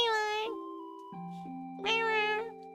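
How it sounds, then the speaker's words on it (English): A cat meow sound button plays two clear, fairly close meows separated by a short pause, with a low held electronic tone underneath and between them. "Cecil just started up his meow button"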